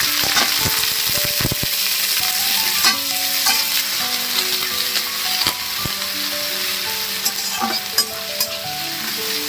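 Chopped onion frying in oil in a wok, a loud, continuous close sizzle with repeated clatter of a spatula stirring and scraping.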